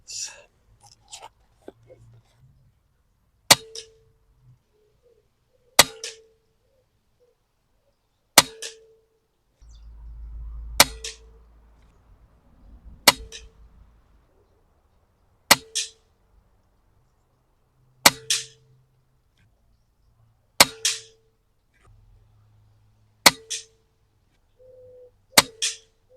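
Daystate Wolverine air rifle firing JSB Diablo pellets: about ten sharp, close shots spaced a few seconds apart, each followed by a short metallic ring, with brief quiet talk between shots.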